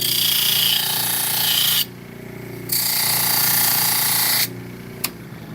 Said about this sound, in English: Then I take the knife and I hold it flat up to the wheel.